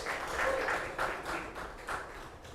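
A small audience claps at a live podcast event, with a scattered, moderately loud patter of hands that swells in uneven pulses and tapers off near the end.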